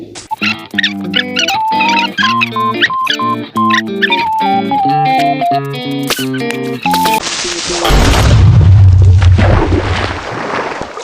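Bright plucked game music plays for several seconds, then a Minecraft creeper blows up in water with a loud, booming blast and a rumbling, splashy tail that lingers to the end.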